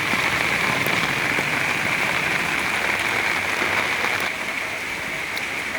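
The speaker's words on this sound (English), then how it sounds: "You can see the raindrops and water puddles in front of our home." Steady rain falls on a road and puddles in front of a house, a dense, even hiss of drops that continues without a break and eases slightly near the end.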